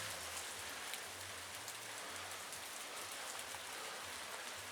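Steady spring rain falls in a sunny shower outdoors, a continuous dense hiss of drops hitting surfaces with a low hum underneath, even and close, with no one speaking.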